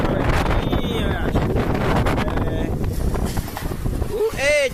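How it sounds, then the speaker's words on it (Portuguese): Strong wind in a heavy rainstorm at a street crossing in Maceió, roaring and gusting loudly against the microphone with rain and shouted talk over it. "Olha o vento."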